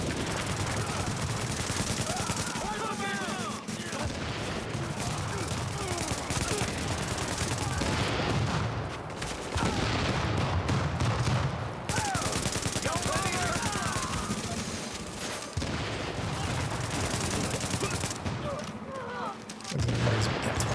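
Continuous dense gunfire and booming blasts from a game, loud and chaotic throughout, with a voice speaking at times over the noise.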